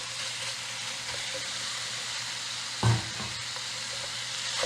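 Beef mince sizzles in a pan with sautéing onions, a steady close hiss of frying with one brief clatter as the meat drops in or is stirred, and no talking.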